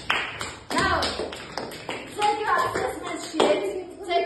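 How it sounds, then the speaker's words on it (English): A class of children claps for the winning group, sharp separate hand claps at an uneven pace, close and fairly loud, with children's voices in the background. "Now clap for your winners"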